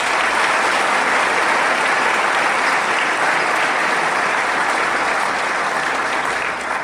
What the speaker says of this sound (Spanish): Entonces démosle un aplauso ahorita a la Virgen Santísima.